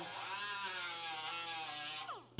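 A grinder works on an Austin-Healey 3000 shroud panel, giving a steady loud whine with a slowly drifting pitch that cuts off abruptly near the end.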